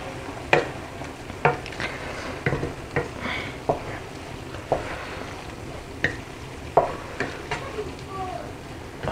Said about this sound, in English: Now mix everything together.